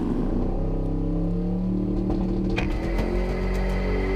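A GTR drag racing car accelerates away down the drag strip, its engine note climbing steadily as it pulls into the distance, droning continuously at moderate loudness.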